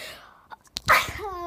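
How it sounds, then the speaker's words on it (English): A sharp, close sneeze bursts out after a couple of small catching breaths, loud and brief, trailing into a voiced exclamation while playing a park escape horror game. "I sneezed again."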